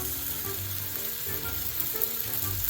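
Brussels sprouts sizzle steadily in hot olive oil in a cast iron skillet, a close, continuous crackling fry with no voices.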